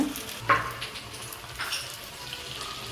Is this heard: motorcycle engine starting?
no